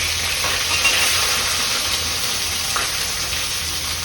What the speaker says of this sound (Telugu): ఇప్పుడు ఇందులో ఉల్లిపాయలు వేసేస్తున్నాను